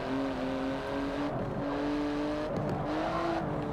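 A Porsche race car engine drones at steady revs in Forza 7, heard from a hood view, with a sustained tonal whine that dips and rises slightly through a turn.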